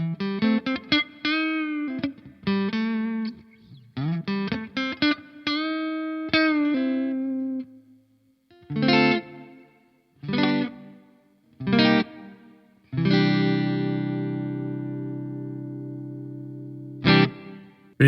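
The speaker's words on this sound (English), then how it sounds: "Pretty nice sounding reverb." Electric guitar played through the APFX Primo amp sim plugin with its reverb effect on, a series of chords and notes whose tails ring out and decay, ending in a long sustained chord with a lingering wash of reverb.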